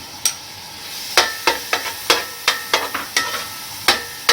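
Garlic ginger paste goes into hot oil for a Karachi-style biryani, with a low sizzle under a string of sharp, close spoon clacks against the pot, about a dozen strikes at uneven intervals.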